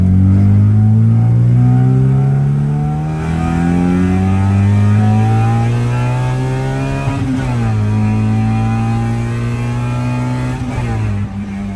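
A car accelerates in second gear, its engine note climbing in pitch, dropping at a shift or lift and then rising again, loud and close throughout.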